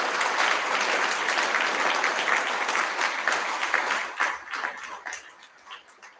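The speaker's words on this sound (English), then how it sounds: "Can we please congratulate and applaud our head prefects for doing a fantastic job?" Audience applause for the head prefects at a Carmel High School Year 12 and 13 prize giving assembly: a dense, sustained wash of many hands clapping for about four seconds, then thinning into scattered individual claps as it dies away.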